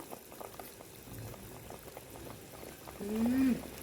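Lal mohan sweets bubble softly in a pan of hot sugar syrup, making a low, steady simmer. Speech runs over the boiling, and a louder burst comes near the end.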